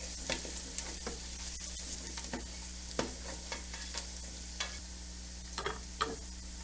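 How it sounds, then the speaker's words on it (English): Garlic sizzles gently in a pot for chicken and dumplings, a soft steady frying hiss broken by occasional stirring clicks and scrapes, with no talking. "Let's go ahead and dump our garlic in there."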